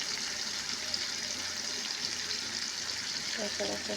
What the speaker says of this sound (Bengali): আর একটু তেল দিয়ে দিচ্ছি আচ্ছা এগুলো বাজা হোক